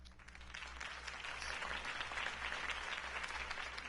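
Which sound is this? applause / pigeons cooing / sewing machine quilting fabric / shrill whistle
applause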